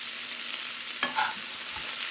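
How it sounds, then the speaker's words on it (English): Food stir-fries in a pan as the base for lasagna soup, a soft steady sizzle with a sharp clink of the utensil against the pan, then scraping stirs, close and with no talk. "go ahead and stir fry this until it comes to a golden brown"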